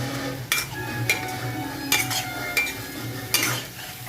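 Boiled potatoes sauté in oil in a pan while a metal spoon stirs them, giving a series of loud scrapes and clinks over a low, continuous sizzle.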